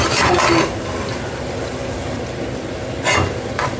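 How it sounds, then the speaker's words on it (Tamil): Fenugreek leaves sautéing in oil in a pan, with a steady soft sizzle throughout and two short bursts of louder stirring or scraping near the start and end. "நல்லா எண்ணெய் பிரிகிற வரைக்கும் நம்ம வதக்கி கொடுக்கலாம்"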